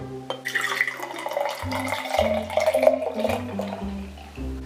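Liquid is poured into a homemade summer drink made with orange and grapefruit, a trickling, splashing stream over steady background music.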